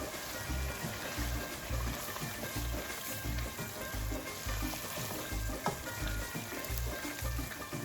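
Paneer cubes sizzling and frying in a pan, a steady soft hiss with rhythmic stirring strokes underneath, quiet and close with no talking.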